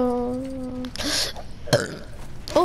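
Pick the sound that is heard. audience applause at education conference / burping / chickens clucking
burping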